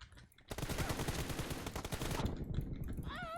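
In the mobile shooter PUBG Mobile, a loud, sustained burst of rapid automatic gunfire runs for about two seconds, then cuts off as a voice comes in briefly near the end.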